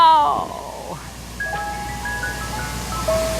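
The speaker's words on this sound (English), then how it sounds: "To the tune of Mr. Softy Ice Cream Truck, here is the globe of Flushing Meadows-Corona Park" A Mister Softee ice cream truck plays its jingle near the globe in Flushing Meadows-Corona Park. The bright, thin melody of sustained tones comes in after a brief opening sound and is fairly loud.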